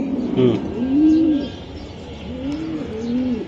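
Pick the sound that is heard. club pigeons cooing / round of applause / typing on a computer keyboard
club pigeons cooing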